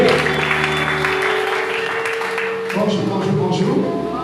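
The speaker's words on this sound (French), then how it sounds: "je veux que tu acclames très fort Dieu" A church congregation applauds and cheers loudly and continuously, a dense wash of clapping and voices with music or singing running underneath throughout.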